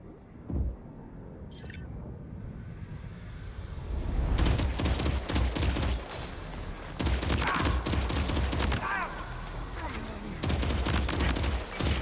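Gunfire in Death Stranding 2: loud clusters of rapid automatic shots that come in dense bursts with short lulls between them, over a low rumbling background.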